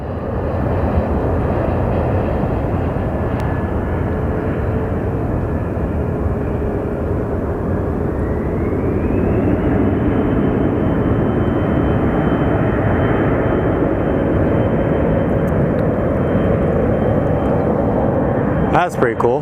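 A Dassault Falcon tri-jet business jet landing at Sky Harbor Airport, its engine roar holding steady and loud throughout, with a rising whine partway through, while people talk nearby.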